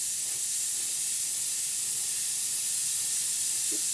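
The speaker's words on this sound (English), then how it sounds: "we're spraying this at about 30 psi" A spray gun sprays at about 30 psi with a steady, close, continuous hiss that holds at one level throughout, with no talking.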